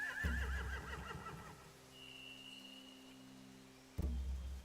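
A horse whinnies in The Walking Dead: The Telltale Definitive game. A wavering neigh comes early over a low, steady ambient drone, then fades into quiet hum before a short thump near the end.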